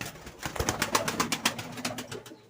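Fantail pigeons just let out of their cage onto a rooftop give a quick run of rhythmic cooing and fluttering pulses, close and fairly loud.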